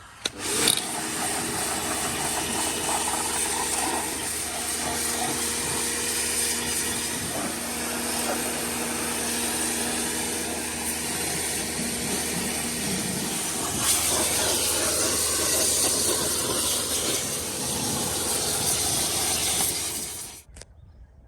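A pressure washer rinses a car outdoors, a steady close hiss of spraying water running without a break for about twenty seconds and then cutting off at the end, with no talking.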